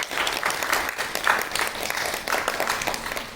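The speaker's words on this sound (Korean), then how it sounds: "환영의 박수 주시겠습니다" A church congregation applauding warmly during a Sunday service, dense clapping at moderate loudness that swells and eases over a few seconds.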